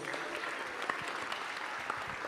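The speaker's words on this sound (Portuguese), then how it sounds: "Então aplauda o Senhor Jesus." A church congregation claps together in steady, moderately loud applause throughout, a dense patter of many hands with a few sharper claps standing out.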